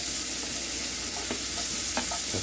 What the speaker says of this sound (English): Let's push this onions over here.